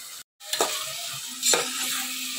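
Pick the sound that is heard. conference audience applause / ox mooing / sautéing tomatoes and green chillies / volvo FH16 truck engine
sautéing tomatoes and green chillies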